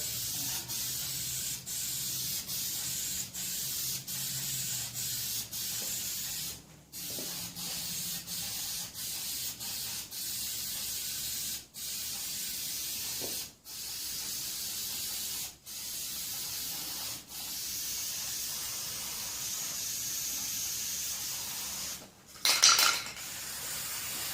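Iron Armor truck bed liner sprayed as a coat onto a Geo Tracker hood, a steady close hiss broken by several brief pauses between passes, with a short clatter near the end.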